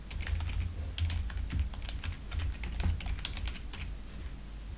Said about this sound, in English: let's just type here the host.